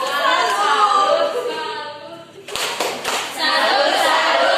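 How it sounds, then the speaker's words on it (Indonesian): Children clap together in a primary school classroom after a classmate's answer, a dense burst of applause that breaks off briefly and then resumes, with voices mixed in. "tepuk sambut untuk Adik Mira."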